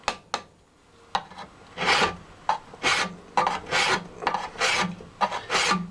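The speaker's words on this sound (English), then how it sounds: "this is called draw filing" Draw filing a bushcraft knife blade by hand: a series of about ten rasping strokes, each a short bright scrape, in an uneven rhythm, close and fairly loud with no talking.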